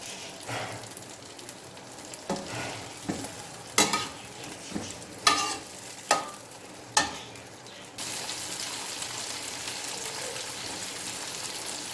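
Okra (bhindi) goes into hot cooking oil with a few sharp clatters and scrapes, then a loud, continuous close sizzle takes over and holds steady. No talking.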